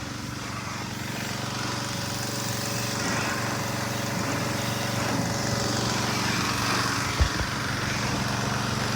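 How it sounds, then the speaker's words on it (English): A pressure washer blasts a 1965 Squarebody truck frame with a steady, loud, broadband hiss and engine drone throughout, with no breaks. "down there blasting it with the pressure washer"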